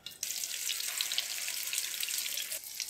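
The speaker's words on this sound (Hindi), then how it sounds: "इसे अंडे में डिप करके इसे फ्राई करते जाएंगे" Shami kebabs dipped in egg fry in a pan, giving a bright, steady hiss of sizzling oil up close that starts abruptly and fades slightly near the end.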